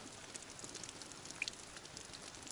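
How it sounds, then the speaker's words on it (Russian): Steady rain falling on a riverside campsite during a fishing and mushroom-picking trip, a dense even patter of drops with faint scattered ticks, close and continuous with no voices. "Дожди начались."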